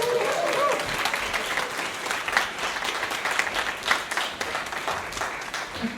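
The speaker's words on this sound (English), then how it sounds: "Another round of applause for Betsy Wright." Applause from a concert audience after a community wind band performance, a dense steady wash of many hands clapping that carries on throughout, with a faint voice or two underneath.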